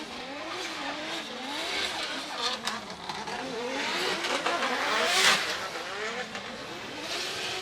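A drift car on its warm-up lap at Ebisu in Japan during Formula Drift qualifying screams through rising and falling engine revs, with tyres squealing and skidding in long sweeps, loud and close.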